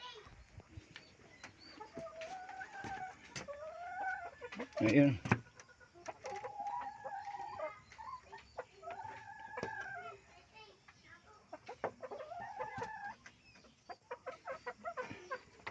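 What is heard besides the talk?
broiler chickens clucking in the coop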